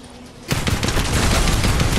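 Fortnite gunfire erupts suddenly after a brief quiet, a fast, dense string of close, loud shots that keeps going to the end.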